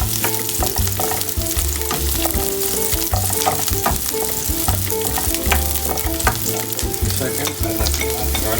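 Onion and garlic fry in a pan for stir-fried buttered vegetables, a steady close sizzle broken by frequent clinks and scrapes of stirring. No one speaks.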